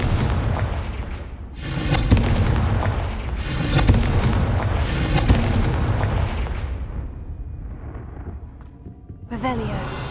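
Repeated Confringo blasting-spell explosions in the Hogwarts Legacy video game: several loud booming bursts with bright crackling tails, spaced a couple of seconds apart, under occasional spoken casting.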